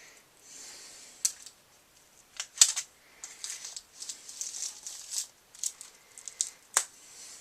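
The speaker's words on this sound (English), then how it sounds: "I'm going to go ahead and take my X-Acto knife and cut the plastic off of it." An X-Acto knife slices and crinkles the plastic wrap off a Pokemon Black 2/White 2 collector's edition strategy guide, a string of close, faint cutting and rustling sounds with sharp clicks in between.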